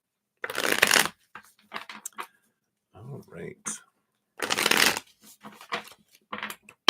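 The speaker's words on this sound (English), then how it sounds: "There we go. Nice and shuffled." A deck of reading cards is shuffled in two loud riffling bursts, with softer card handling between them, while a voice speaks briefly.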